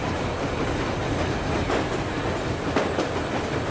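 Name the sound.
train riding on railroad in video game Metro Exodus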